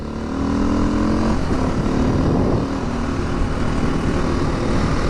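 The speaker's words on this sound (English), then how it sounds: "I'm really gonna try and be conservative with riding this bike for now." Street legal dirt bike fitted with dirt bike tires, engine droning steadily and loudly throughout the ride with a slight rise in pitch, no talking over it.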